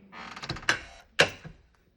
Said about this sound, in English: You could also open it with an RFID smart card.